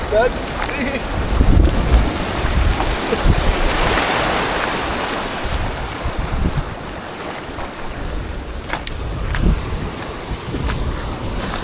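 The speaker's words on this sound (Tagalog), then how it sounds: "Tingnan nyo guys, oh, lakas ng agos niya." A broad, rushing roar of a fast, strong river current with gusts of wind buffeting the microphone, steady and close.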